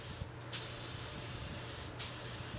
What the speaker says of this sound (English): Spray finishing really gets into the corners without any issue.